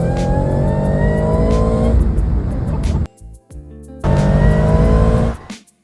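Layered car engine start effects from Need for Speed Unbound: a loud revving roar that cuts off, a short quieter sputter, then a second loud rev that drops away, with no other sound around it.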